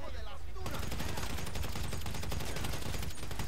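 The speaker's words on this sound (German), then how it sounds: "Ich schieß die Autos ab." Dense bursts of rapid gunfire in the video game GTA V Online, loud and close with fast repeated shots and explosions blending together, with voices underneath.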